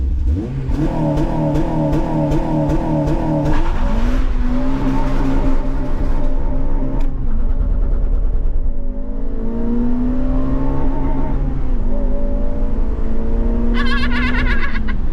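A tuned car performs a standing-start launch at night, its engine revving hard and holding high, then surging again in loud, close bursts with a whirring, rising drone throughout.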